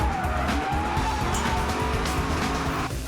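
Drift cars skid through a corner at the Autobarn Drift Battle 2005, a steady roar of engines with a long tire squeal sweeping across the run, loud and continuous.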